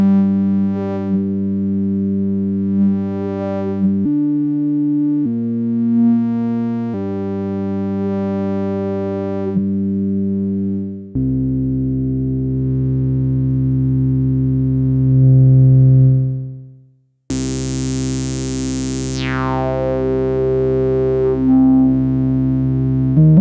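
Analog synthesizer tones from a Behringer MS-5 or Roland SH-5, playing sustained harmonic-rich notes that change pitch in steps, then a bright sweeping chirp near the end; loud and alone with no talking.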